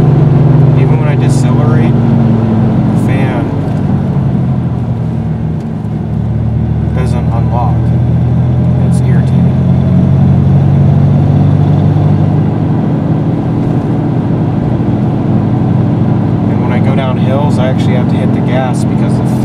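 1996 Dodge Dakota 3.9L V6 with a locked-up fan clutch decelerating, a loud steady engine and fan roar that dips briefly then holds, with someone talking over it.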